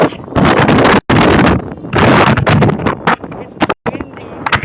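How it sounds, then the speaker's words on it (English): Gusty wind buffets the microphone at an outdoor political rally, loud roaring bursts with brief drops, while a person talks over it. "It's windy today."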